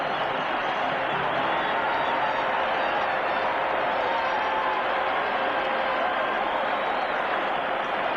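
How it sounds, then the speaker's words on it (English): Large hockey arena crowd at the 1976 Canada Cup final between Canada and Czechoslovakia roars in a steady, loud, dense wash of cheering that holds unbroken throughout. "Listen to this crowd."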